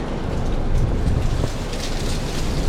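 Wind gusts along Main Street by the harbor in Bar Harbor, Maine, on a sunny December day, a steady, close, rumbling buffeting with no voices.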